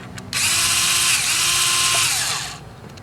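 A power tool spins out the front coil cover bolts on a 1995-2001 Nissan Maxima engine during spark plug replacement, giving one loud, close, sustained whirring burst of about two seconds that winds down at the end.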